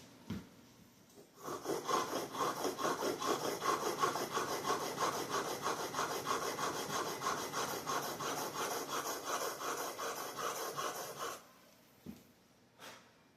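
A broadhead arrow tip is sharpened on sandpaper, making close, steady rhythmic scraping strokes for about ten seconds before stopping abruptly.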